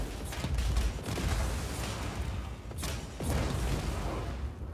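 In the Just Cause 4 video game, a cloud of red barrels explodes in a rapid series of rumbling booms and crackling blasts that overlap into a dense, continuous barrage, somewhat distant and muffled.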